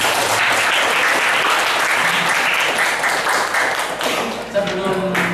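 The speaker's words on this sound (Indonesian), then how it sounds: "kasih tepuk tangan buat kita semua" Audience applause at an academic session at IAIN Ponorogo, dense and steady clapping that fills the room from start to finish, thinning slightly near the end as voices begin to come through.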